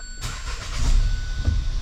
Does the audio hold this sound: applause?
no